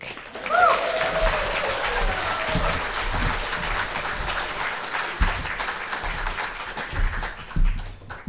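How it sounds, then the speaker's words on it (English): Audience applause for Ken Dubuc at a 2025 liars contest, a steady wash of clapping lasting several seconds with a brief whoop or cheer near the start, fairly full and sustained throughout. "Let us please provide thunderous applause to Ken Dubuc."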